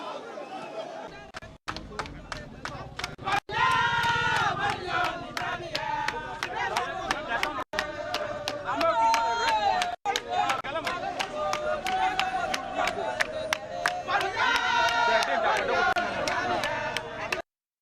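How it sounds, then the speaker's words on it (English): A crowd cheers and chatters loudly around a man as powder is poured over him, with sharp clicks cutting through the constant roar of voices. "A number of them cheering him on."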